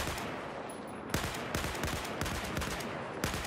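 Rapid gunfire in the Battlefield 4 video game, loud bursts of automatic shots with a few heavier cracks in close succession, dense and continuous over a short stretch.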